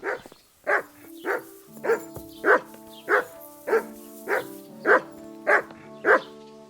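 Mutt, a dog in Kingdom Come Deliverance II, barks about eleven times in a steady, evenly spaced rhythm. The barks are loud and close, with a faint musical drone underneath.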